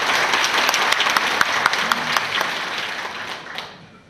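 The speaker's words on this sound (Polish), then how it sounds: "Wielkie brawa." Loud audience applause at a Polish conference gathering, dense clapping from a crowd that holds steady for a few seconds and then fades out toward the end.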